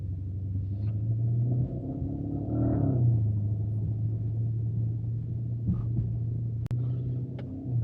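A Porsche Panamera driving on a road gives a steady low engine rumble and road hum, with a few brief knocks near the end.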